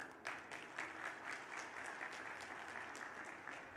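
An audience at a public fair gathering in Gwalior claps steadily for a few seconds, a dense, even patter of many hands heard from a distance at fairly low level.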